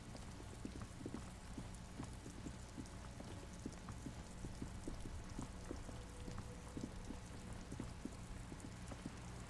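Rain falls in the Disco Elysium video game as a faint, steady hiss, scattered with small pattering drops, with no voices throughout.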